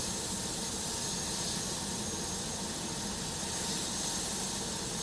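Helicopter at the inauguration of a state's first helicopter tourism service, a steady loud rotor and engine roar with broadband whine, continuous and unchanging throughout, no voices.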